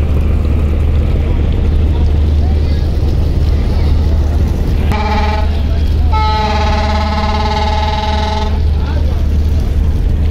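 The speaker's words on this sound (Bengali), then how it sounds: "যুবরাজ 7 লঞ্চ হরেন দিল মাত্র" Horn blasts from the passenger launch MV Yuvraj 7 leaving after the final prayer at Charmonai, two loud sustained tones, a short one then a longer one, over steady engine rumble, wind and crowd noise on the river.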